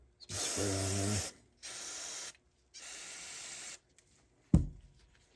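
Three hissing bursts of aerosol spray on a 1986 Honda XR200R, about a second each with short gaps, followed by a single dull knock.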